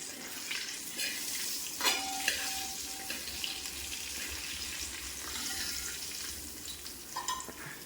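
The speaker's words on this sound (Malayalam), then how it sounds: "തിരിച്ചിട്ട് കഴിഞ്ഞ് നമ്മളൊന്നുകൂടെ ആ ചട്ടകം വെച്ച് ഒന്ന് കൂട്ടി ഇളകും" Soy chunks fry in hot oil while a spatula stirs and scrapes them around the pan, giving a continuous crackling sizzle with occasional metallic scrapes and clinks, close and fairly loud, with no talking.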